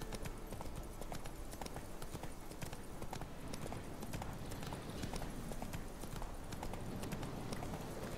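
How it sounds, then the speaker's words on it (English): Rapid horse hooves clip-clop continuously at a brisk gallop through woods in The Witcher 3, steady and fairly faint, with no talking. "A horse."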